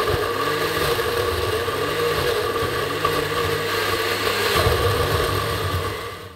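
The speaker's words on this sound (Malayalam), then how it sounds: "ഇനി മിക്സിയുടെ ജാർ അടച്ച ശേഷം ഇത് നന്നായിട്ടൊന്ന് ബ്ലെൻഡ് ചെയ്തെടുക്കുക." A mixer grinder jar whirs steadily as it blends Sharjah shake with half a litre of milk, a loud continuous motor drone with shifting pitch from start to finish, no talking.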